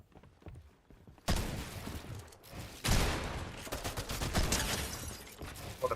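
Heavy gunfire erupts in a Fortnite fight, a quiet lead-in giving way to two sudden loud bursts and then sustained rapid overlapping shots and impacts, up close with no talk.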